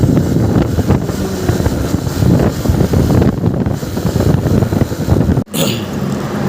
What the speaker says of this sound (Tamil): வண்டி சுடுக்குதுங்க வண்டி சுடுக்குது